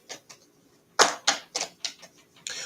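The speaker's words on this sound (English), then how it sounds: "Let me shuffle my cards." Tarot cards shuffled by hand during a live reading, giving a few soft riffle bursts followed by a run of crisp, closely spaced flicks and slaps, near and fairly quiet with no talk.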